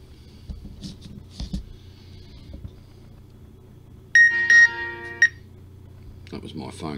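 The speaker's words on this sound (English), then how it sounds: "That was my phone going off" A mobile phone goes off with a loud electronic ringtone of bright, steady tones lasting about a second, following quieter sounds, with a voice starting up afterward.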